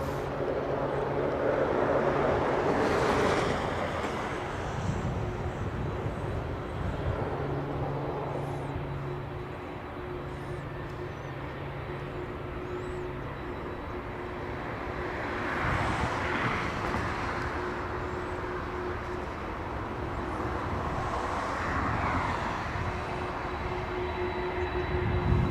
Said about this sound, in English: Let's go to the Delta departing. It's another 737. This one's a 900.